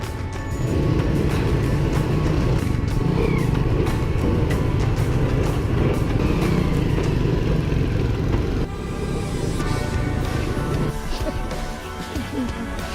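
A continuous motorbike taxi engine rumble with steady road noise while riding through busy traffic in Ho Chi Minh City, Vietnam, loud and unbroken throughout.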